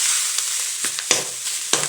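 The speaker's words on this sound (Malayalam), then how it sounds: "നന്നായി ഒന്ന് ഇളക്കി കൊടുക്കാം." Tender jackfruit stir fry is stirred in a hot pan, a continuous close sizzle broken by three or four distinct spatula scrapes against the metal.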